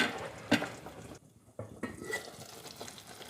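A spoon scoops Thai chicken curry with glass noodles and chili leaves from a pot to serve, with sharp clinks of metal against the pan, a short hush, then more scraping and soft sloshing up close.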